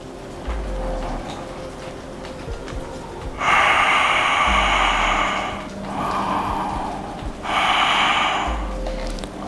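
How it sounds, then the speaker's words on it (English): Deep breaths during a yoga session, with three long, loud, airy exhales in slow succession, close to the ear and without speech between them. "Exhale."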